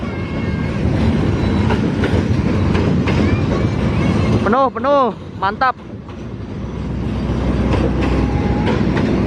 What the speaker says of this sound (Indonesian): Kereta api Argo Wilis sudah diberangkatkan dari stasiun Cipendei.